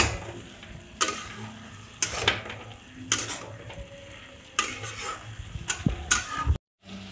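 Mixed vegetables with a sprinkling of flour are stirred in a pan for labra, a faint sizzle under a handful of distinct spatula scrapes at irregular intervals, ending abruptly.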